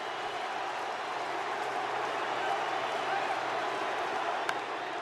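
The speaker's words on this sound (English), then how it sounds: "Let's share the crowd noise with you" A packed stadium crowd at a Dodgers postseason baseball game roars continuously and euphorically. The broad, even wash of cheering sounds distant, with a faint sharp knock near the end.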